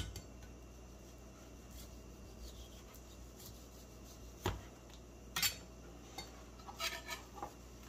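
Quiet, close scrapes and light taps of a knife working across a ribeye steak on a board, trimming away the outer crust in short, irregular strokes with no talk.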